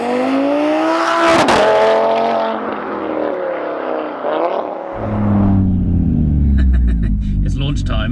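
A 713 bhp Audi RS3 saloon makes a launch-control start, its engine roaring loud and close inside the cabin, rising hard through the gears before easing to a low rumble, with a voice speaking over part of the run.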